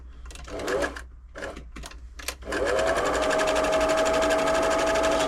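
A few light clicks and short mechanical bursts come first, then a Singer 6104 sewing machine runs in one steady, fast, close stitching whir that lasts to the end.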